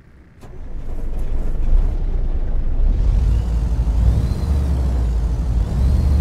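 Cat 3406 diesel engine in a Freightliner Classic XL in American Truck Simulator fires up quickly, then settles into a loud, steady, deep rumble that continues to the end.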